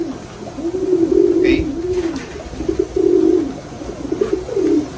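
Racing pigeons, USA and Taiwan bloodlines, cooing close by in repeated low rolling phrases, with a brief chirp and faint background noise.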